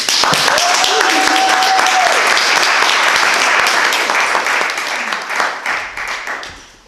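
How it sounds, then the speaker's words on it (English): Audience applause for poet Maurya Kerr at a live poetry show, a dense, sustained wash of clapping that fills the room, holding steady before tapering off toward the end. "give your attention and give your applause to Maurya Kerr"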